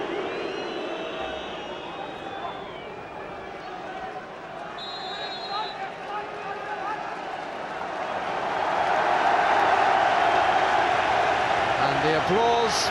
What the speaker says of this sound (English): the applause, the noise that you can hear is because of the introduction of Robbie Fowler, the club captain